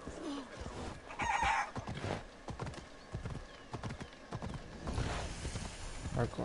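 Horse hooves clip-clop steadily at a trot in the video game Assassin's Creed Odyssey, with a brief whinny and some voices talking over the galloping rhythm.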